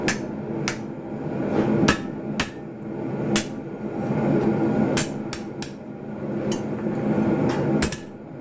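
Hand hammer strikes on Damascus steel being forged, ringing metallic blows falling in an uneven rhythm of about a dozen hits over steady workshop noise, loud and close.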